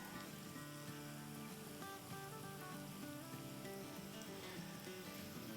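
Onion sautéing with ginger-garlic paste in a hot pan, a steady close sizzle and crackle of frying that holds evenly from start to finish, with no voices over it.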